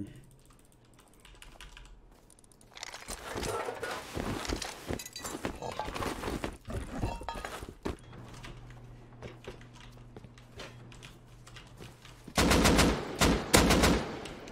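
AK rifle fire in a video game, rapid bursts of automatic shots mixed with keyboard clicking, a louder close burst near the end, with quieter stretches in between.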